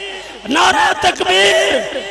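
A large crowd roars back a religious slogan response in unison at a preacher's rally, loud, overlapping voices swelling in bursts across the moment.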